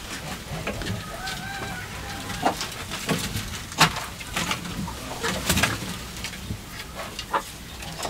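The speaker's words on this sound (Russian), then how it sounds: "В данном случае это шорох птиц по какой-то металлической поверхности." Birds scratch and skitter across a metal surface outdoors, giving scattered sharp clicks and scrapes that come through fairly close over a steady windy background, with hens murmuring nearby.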